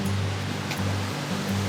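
Waterfall roaring nearby, a loud, steady broadband rush of falling water with no pauses and no voices over it.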